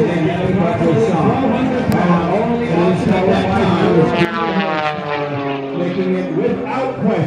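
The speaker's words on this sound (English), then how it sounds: "The most high-performance aerobatic biplane in the world today." A high-performance aerobatic biplane roars steadily with propeller drone throughout, loud and continuous at an airfield runway ribbon-cutting event, while someone speaks over the engine noise.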